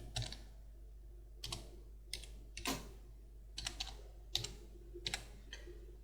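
Typing on a computer keyboard while working in AutoCAD, a few short clusters of close, light key clicks separated by brief pauses, over a quiet low hum.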